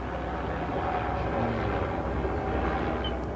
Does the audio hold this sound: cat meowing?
no